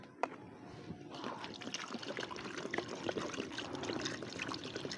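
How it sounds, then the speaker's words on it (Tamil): Water pours and trickles steadily while raw chicken is washed, with faint splashing close by after a short quiet start. "இப்போ சிக்கன் வாங்கி இப்போ முதல்ல கழுவும்"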